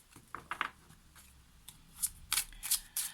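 Tarot cards being shuffled for a reading, quiet close riffling in short bursts with small pauses, growing slightly louder toward the end.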